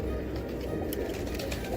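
Heera Laal pigeons coo softly and steadily at close range, a low continuous burbling over a dense rustle of many birds together.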